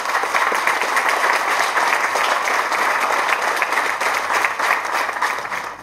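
Steady, dense applause from a large audience at a medal award ceremony in France, continuous and loud throughout with no voices rising above it.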